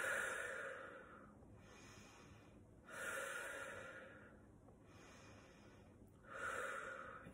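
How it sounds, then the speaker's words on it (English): Deep guided breaths, each drawn in through the nose and let out through the mouth, in a slow steady rhythm of three long swells, close and fairly quiet with no talking. "we'll begin with a few deep breaths. Inhaling through the nose, exhaling through the mouth."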